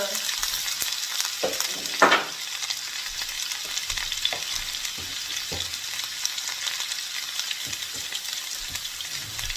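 Fresh vegetables fry in hot oil for a vegan sweet and sour tofu dish, giving a steady, close hiss and sizzle with brief stirring clatter and no talking.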